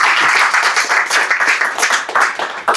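Audience clapping after a talk on AI agents and EU AI Act compliance, a loud, close, uneven patter of hands lasting a few seconds with fluctuating intensity.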